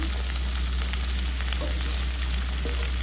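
Rui fish curry sizzling loudly in a pan as green chilies and tomato go in, a dense continuous fry with a few faint stirring clicks close by.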